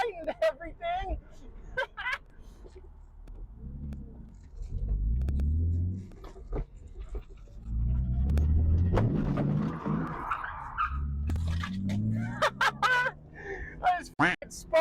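A BMW E36 with a reinforced subframe and new motor mounts drives and spins out, its engine rising and falling in loud surges of rumble with bursts of revving, while a person talks and laughs over it.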